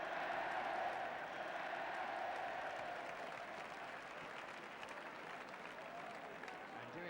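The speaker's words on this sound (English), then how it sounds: "Alan Gilzine, in fact, is getting a tremendous round of applause from the crowd here" A stadium crowd at a 1971 First Division football match between Tottenham Hotspur and Nottingham Forest gives a sustained round of distant applause, a steady wash of clapping that fades slightly over several seconds.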